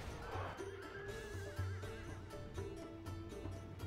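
Horses neigh and whinny during a Medieval II battle, a drawn-out wavering whinny rising above a low, busy battlefield din, with no talking.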